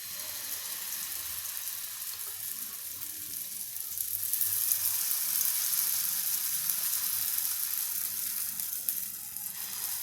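Green pea nadan dosa frying on an oiled griddle over low gas, a steady faint hiss of sizzling oil that swells slightly midway, with no talk.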